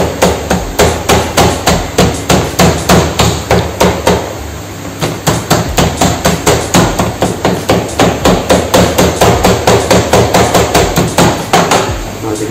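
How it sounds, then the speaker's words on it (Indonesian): A meat mallet pounds a butterflied chicken breast fillet thin for Taiwanese Shilin fried chicken, striking in a fast, steady, loud rhythm of dozens of close thuds with only a brief pause midway. "Sebenarnya enak kalau kita pakai palu."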